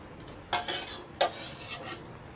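A metal spoon scrapes and clinks against a pan while scooping masala from a bitter gourd (karela) fry, two sharp knocks followed by softer scraping strokes, close and alone.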